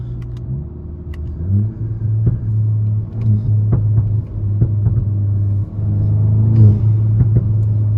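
A 2022 Volkswagen GTI engine with an aftermarket intake and catback exhaust rumbles steadily up close and revs up near the end, the deep intake note swelling louder as it accelerates.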